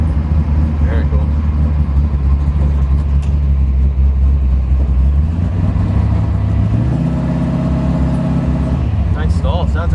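A 1967 Chevrolet Camaro SS with a built 383 stroker V8 and fully built automatic transmission rumbles deep and loud at idle, then climbs sharply as the engine revs up to converter stall, with people talking nearby.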